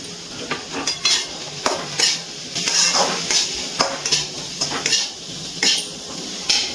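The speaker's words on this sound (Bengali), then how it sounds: "ভাজা মশলাটা দিয়ে কিছুক্ষণ একটু নাড়াচাড়া করে নিয়েছি" A dry-roasted ground spice mix is stirred through vegetables in a pan, with rhythmic scraping and clinking of a metal utensil against the pan over a light sizzle, repeated strokes close and clear.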